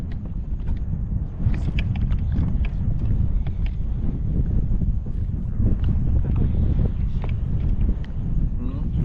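Wind gusting over open water on a blustery day while out fishing, a steady broad rush with intermittent buffeting against the microphone and water sloshing, continuous throughout.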